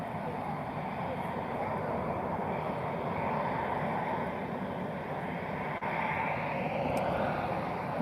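An Airbus A321neo airliner touches down at Lisbon Airport, giving a continuous, heavy rumble of engine and rushing air that stays loud and steady throughout.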